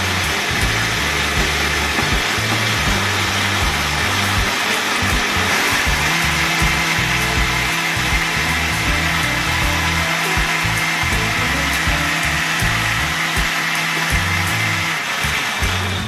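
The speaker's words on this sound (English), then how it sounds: "That should be well blended with all them little extra bits and nuts" A blender runs continuously at high power, grinding cashew nuts for porridge, its loud motor whir steady with shifting low-pitched churning throughout and no voices.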